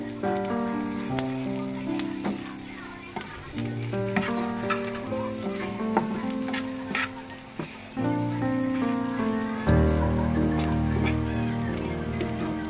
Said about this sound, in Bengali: সবগুলো এবার আমি ভেজে নেব